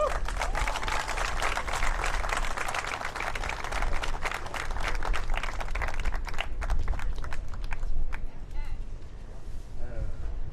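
A crowd applauds at the opening ceremony of the 2021 Wisconsin State Fair. The clapping is steady and dense for several seconds, then thins into scattered claps near the end.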